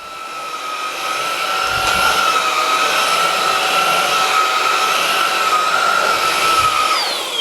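A Xiaomi Handheld 1C cordless stick vacuum on its lowest mode whirs steadily with a high motor whine, spinning up at the start and winding down at the end, heard up close.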